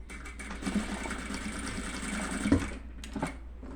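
A sewing machine stitching a seam through folded fabric, a soft steady mechanical whirr with faint clicks, quiet and close, ending with a couple of brief knocks.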